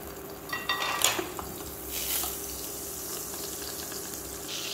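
Cooking oil and butter sizzle faintly in a kadhai, a soft steady crackle with a few brief louder pops and clinks early on, heard alone at low level.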